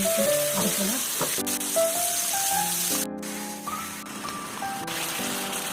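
Semi-dried hairtail fish fries in seasoning, giving off a steady, close sizzle alongside a tonal melody.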